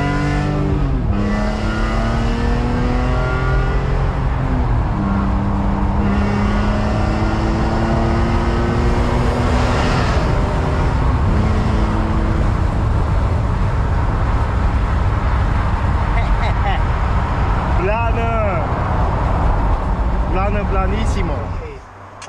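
A BMW M3 convertible drives with a loud, continuous engine note that climbs and drops through repeated revs and gear changes. A voice talks over it throughout.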